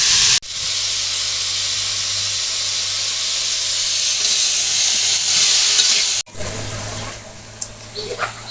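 Vegetables frying in hot oil, with a loud close-up steady sizzle and hiss that cuts off abruptly and then resumes with stirring sounds, without any speech.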